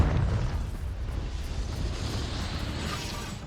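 A Confringo blasting curse cast in Hogwarts Legacy, heard as a sustained loud, rumbling explosion with a noisy wash that slowly fades.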